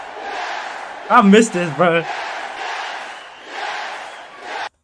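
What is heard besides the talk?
wrestling crowd screaming yes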